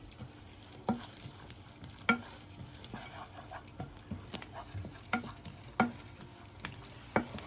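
Cashews frying in butter in a pan, a steady soft sizzle with occasional stirring clicks and scrapes spread through, close and moderately loud with no talking.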